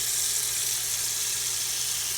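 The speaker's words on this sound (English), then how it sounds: "Now that it's cut in slices, we're going to wash it." Running water from a tap splashes steadily into a sink while sliced cabbage is washed, a continuous close hiss with no talking.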